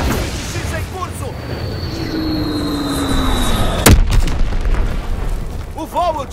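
Deep booming explosions from a bombing mission in a video game, loud and rolling, with one sharp, heavy blast standing out near the middle above a steady rumble.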